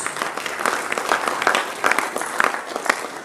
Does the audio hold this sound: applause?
yes